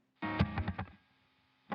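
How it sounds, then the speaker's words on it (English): An electric guitar plays a short, loud burst of a distorted riff during a song recording session, a few chugging notes that then ring out and fade, with a brief new attack at the end. "it's basically the same riff, but toned down a bit to be, you know, because it's on distortion"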